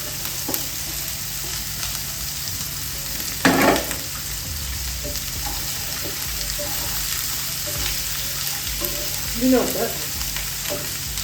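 Chopped beetroot and onion sizzle steadily in a hot pan, with occasional scraping clatters as a spoon stirs them, close-up and continuous without speech.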